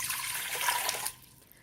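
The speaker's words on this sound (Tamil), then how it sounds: "இந்த பாத்திரத்தில் 380 ml அளவுக்கு எடுத்துருக்கிற தண்ணியை சேர்த்துக்கலாங்க" Water is poured into a steel vessel for soap making as a brief, loud, hissing splash that stops abruptly after about a second, leaving quiet behind.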